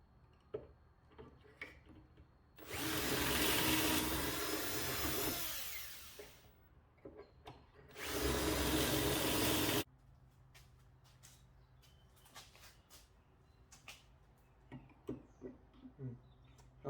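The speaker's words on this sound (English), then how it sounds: "Now I'll go ahead and drill all the holes for the stretchers." Two long bursts of a power drill whirring loudly as it bores pocket holes in wood for table stretchers, separated by a short pause, with quiet clicks and handling noises before and after.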